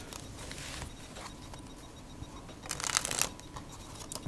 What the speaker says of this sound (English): give them a bit of a shuffle if you want